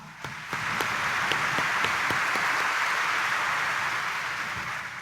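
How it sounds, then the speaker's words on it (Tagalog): A Sunday morning Mass congregation at Quiapo Church bursts into loud, sustained applause that swells quickly, with a few sharp individual claps standing out, then holds steady before easing slightly at the end. "pumalakpak ng malakas"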